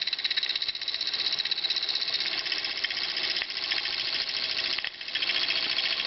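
A model steam engine running in reverse after its lever is flipped, giving a steady, fast mechanical chuffing rattle that is close and continuous, with brief dips in level and no talking.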